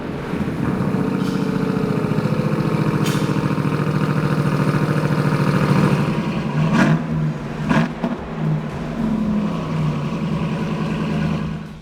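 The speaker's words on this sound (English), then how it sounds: "This is a Corsa Performance full catback system. It sounds wild." A RAM TRX truck with a Corsa Performance full catback exhaust runs with a deep exhaust drone, then revs sharply a couple of times before settling back to a steady rumble.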